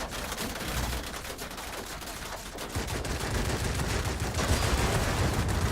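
An aircraft revolver cannon in the video game World of Warplanes roars in long continuous bursts, dense and loud, building in intensity toward the end.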